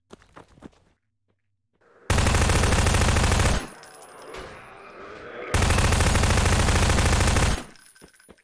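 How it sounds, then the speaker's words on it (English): Shotgun fire in the VR game Gmod, set in an underground bunker: two long, loud bursts of rapid blasts with a short rumbling gap between, after a brief quiet start. "Pulling out the shotgun."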